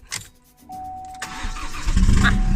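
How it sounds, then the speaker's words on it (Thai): Chevrolet Colorado pickup engine cranking and catching without the clutch pressed, a short starter whine followed by the engine firing up and settling into a loud, rumbling idle close by. "ลองสตาร์ทแบบไม่เหยียบคัด"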